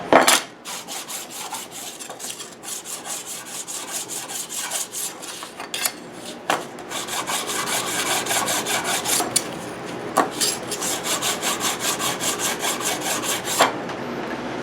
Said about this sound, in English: Get rid of the burr with the mill smooth.